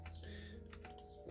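Keyboard keys tapped and clicked at a computer while configuring launch bars in Dopus on Magellan, quick faint ticks close by, with no talking.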